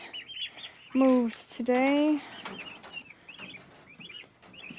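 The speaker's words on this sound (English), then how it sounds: "there's the turkeys enjoying this for a little while." Loud gobbling and squawking calls from turkeys nearby, two prominent bursts followed by softer chirps, with a brief spoken remark.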